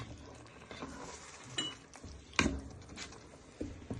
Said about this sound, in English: Then you give this one final stir.